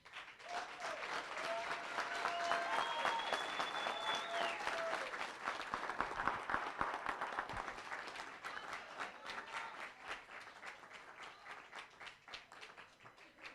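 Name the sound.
audience applause for the coaches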